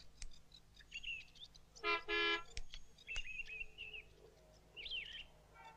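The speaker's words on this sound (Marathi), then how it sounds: "हॉर्न दे जरा" A car horn gives a loud, brief double honk outdoors, with birds chirping and tweeting intermittently around it and no talking.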